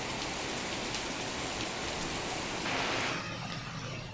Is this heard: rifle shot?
no